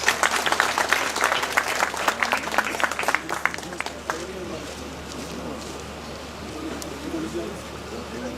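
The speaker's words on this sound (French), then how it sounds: "Je vous demande de l'applaudir, s'il vous plaît." Audience applause at an airport technical-building inauguration, dense clapping for the first four seconds that fades into a quieter murmur, with voices and a bird cooing nearby.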